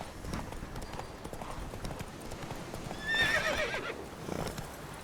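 Roach, Geralt's horse in the video game The Witcher 3, gallops with steady rapid hoofbeats, joined around the middle by a brief loud whinny.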